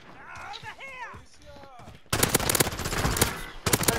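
Rapid bursts of loud gunfire erupt after a couple of seconds of voices, continuing as dense, overlapping shots to the end.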